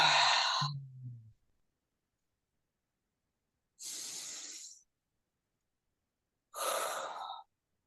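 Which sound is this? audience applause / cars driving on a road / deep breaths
deep breaths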